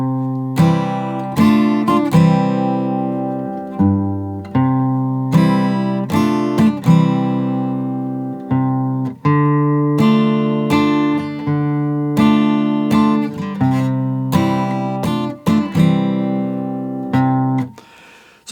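A guitar plays the verse line of a song, plucked notes and chords in a steady rhythm, ringing clearly with no singing or talking.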